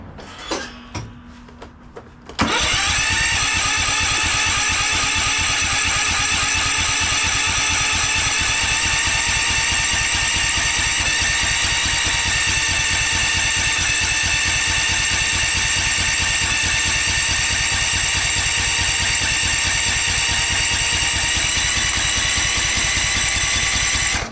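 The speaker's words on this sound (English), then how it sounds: "Well, it's turning over a lot better." A cracked Kohler Courage engine, repaired with its flywheel and fan bolted back on, cranks over: a few quiet clicks give way to a loud, steady, rhythmic mechanical churning that carries on, close and unbroken, to the end.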